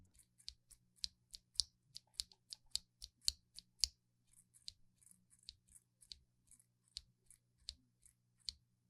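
Crisp mechanical keyboard keystrokes from an EpoMaker Lite gasket-mount board click in a quick, uneven run, then slow to scattered taps, close and clear against a quiet background hum.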